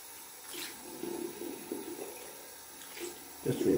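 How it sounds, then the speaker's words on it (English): Water runs and splashes inside a bathtub as it is rinsed out, a soft hissing flow that swells and fades, growing louder near the end. "Just rinsing off the tub."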